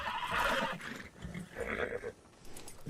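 A horse in the Red Dead Redemption 2 video game gives a loud, close whinny, a wavering neigh that rises and falls over about three seconds.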